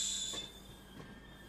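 A train with a WAG12 locomotive at a railway station, heard as a faint, steady rumble with high squealing tones that fade out over a second and a half.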